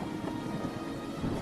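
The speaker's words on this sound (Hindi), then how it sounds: "बारिश इतनी तेज है कि पत्तों के नीचे भी पानी टपक रहा है" Heavy rain pours down with rolling thunder in a dense, steady wash of noise, loud and unbroken throughout with no voices.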